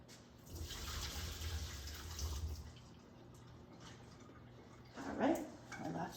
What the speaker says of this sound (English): So I'm gonna drain that out real quick.